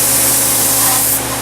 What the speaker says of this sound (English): You have to spray